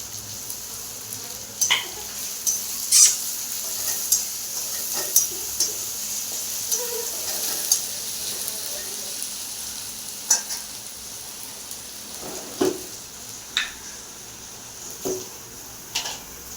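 Chopped onion frying in a pan for a chana chaat, with a steady sizzle broken by irregular stirring clicks and scrapes, close and fairly loud, no talking.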